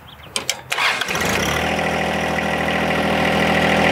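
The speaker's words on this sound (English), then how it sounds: "I'll be talking over the running engine at different stages in the process" A John Deere 1025R tractor engine cranks with a few sharp bursts, then catches and settles into a steady, loud, close idle rumble.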